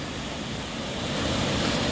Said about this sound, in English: Okay, there are waterfalls.